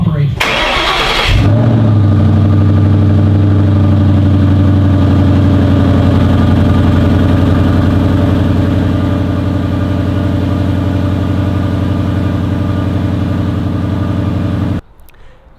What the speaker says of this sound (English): I'm gonna throw in a little cold start for you guys right here, just so you know what it sounded like completely stock.